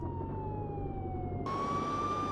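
Police car siren in the video game Contraband Police, a sustained electronic wail that slides slowly downward, then jumps to a higher pitch over a low engine rumble.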